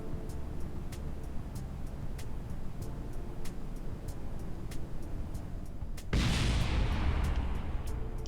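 A rocket explodes in Kerbal Space Program: a steady engine roar runs for several seconds, then a sudden loud blast at about six seconds erupts into a broad, sustained rumbling burst that continues to the end.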